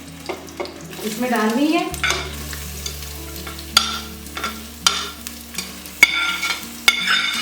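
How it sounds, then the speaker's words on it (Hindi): Onions fry in hot oil inside a pressure cooker with a steady sizzle, while a spoon scrapes and knocks against the metal pot at irregular intervals. Someone speaks briefly near the start. "ये प्रेशर कुकर में मैंने 2 कप भर के ऑयल का डाल दिया। अब इसमें मैं ये प्याज डालूंगी।"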